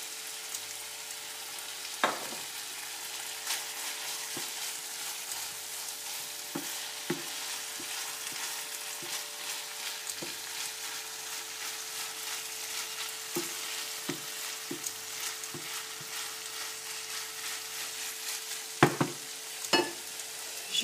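Chicken and red pepper mix with parsley frying in a pan, a steady soft sizzle running throughout with occasional sharper clicks of a utensil stirring against the pan.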